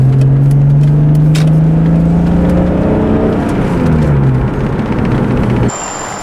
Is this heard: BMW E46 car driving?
yes